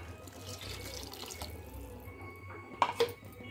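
Water is poured from a tap or jug into a pan of ridge gourd masala: a steady low trickle that swells into a brief louder splash near the end, close by, with no speech.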